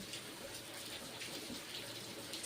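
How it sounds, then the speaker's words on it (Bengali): Water poured into a cooking pot of fried spice paste while making an egg and poppy seed curry, giving a steady, even rush with no talk over it. "এখন জল দিলাম মশলা কষে নেওয়া হয়ে গেছে"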